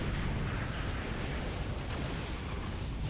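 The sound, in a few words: Sumo units firing cannons in Total Annihilation video game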